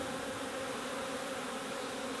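Honey bees at an open summer beehive full of brood and honey produce a dense, continuous buzzing drone, steady and close with no other sounds.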